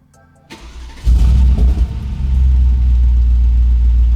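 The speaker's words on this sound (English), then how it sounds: "Let me hear what it sounds like when you start it up with the exhaust open" A warm Mercedes G-Wagon engine, flood-damaged and rebuilt, starts with its exhaust open: a starter crank, then a loud, deep roar that settles into a heavy, rumbling idle.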